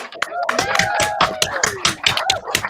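A round of applause from a small audience on a comedy show, quick irregular claps, close and loud, with voices talking and calling out over them.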